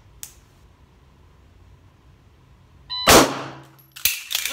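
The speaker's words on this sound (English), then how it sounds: "So if I'm trying to do a super cool 1 second reload video" A handgun is reloaded quickly after a faint click in near silence, with a loud, sharp metallic clack of the magazine and slide followed by a second clatter, close and abrupt.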